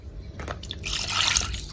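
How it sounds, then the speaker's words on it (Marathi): Tap water runs and splashes over raw chicken being washed, about half a kilo, outdoors on a farm; a steady close trickle that swells and gets louder through the second half. "आता मी ही चिकन धुवून घेणार आहे, पाणी वतून निर्मळ स्वच्छ धुवून घेते।"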